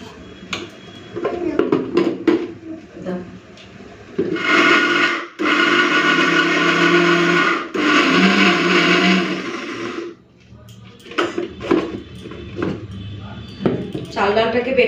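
A blender or grinder pulverizes soaked rice and lentils with garlic and green chili, running in two loud sustained bursts of steady whirring, with talk before and after the grinding.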